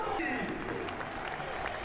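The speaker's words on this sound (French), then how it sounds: "Sous les acclamations de son public" Home supporters at a Béziers Pro D2 rugby match cheering in the stadium, a faint, distant crowd roar with scattered applause that runs steadily beneath a commentator's voice.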